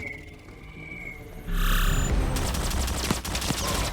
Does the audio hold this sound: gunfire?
yes